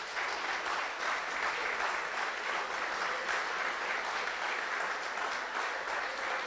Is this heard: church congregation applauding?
yes